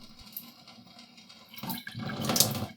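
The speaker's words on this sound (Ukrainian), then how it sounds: "Зливаю залишки води." Water splashes and gushes in short bursts, growing louder toward the end, as leftover water is drained from a removed filter faucet into a sink.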